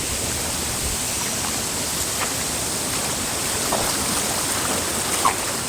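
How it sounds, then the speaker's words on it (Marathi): Steady, heavy rain pours down in a dense, continuous hiss, with no voices and only a few faint drops standing out. "पाऊस खूप आलेला आहे"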